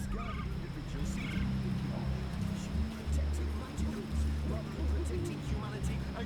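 A bird in the fantasy video game Dreamfall Chapters gives loud, gobbling, fowl-like calls in repeated bursts, with a voice speaking over the calls.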